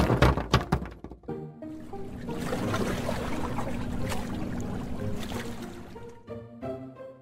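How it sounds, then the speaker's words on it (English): A fishing boat that has struck rocks takes on water, with a continuous rushing, gurgling pour rising after a few knocks and bumps, backed by soft musical tones. "The boat began to fill with water."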